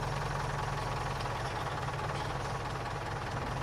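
An old tractor engine idles in Farming Simulator 19, a steady low rumble with a constant drone and no variation in rhythm, close and continuous throughout.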